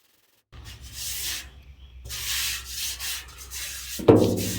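Steady abrasive rubbing strokes of sanding primer on a Ford Bronco's body, in repeated bursts with brief pauses, close and fairly loud, ending with a sharper scrape.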